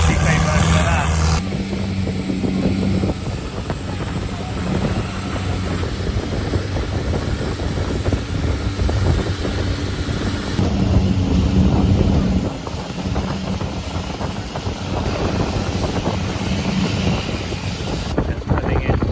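Basic speedboat ride over to Railay Beach near Ao Nang, with steady engine drone, hull slap and heavy wind buffeting the microphone throughout, and voices faint under the noise.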